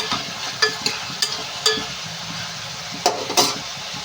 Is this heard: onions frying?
yes